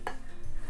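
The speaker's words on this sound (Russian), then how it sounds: "Вот мой чайник, еще крышечка." A handmade ceramic teapot lid gives one short, bright clink against the pot, close and clear, followed by a faint low rub.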